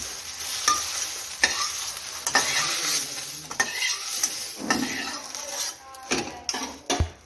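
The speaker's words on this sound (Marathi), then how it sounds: "तर अशा प्रकारे आपली भेंडी मस्त असं फ्राय झालेली आहे, भाजून झालेली आहे." Okra frying in a kadhai, a soft ongoing sizzle punctuated by sharp scrapes and clinks of a spatula stirring against the metal pan, irregular and close.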